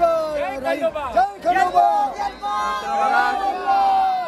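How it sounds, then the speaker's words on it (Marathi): A festive crowd at the Aai Raiba Devi yatra in 2025, cheering and calling out in a dense, lively babble, with a nearby voice talking over the jubilant noise throughout. "मित्रांनो बघा कसा जल्लोष आहे रावेकरांचा"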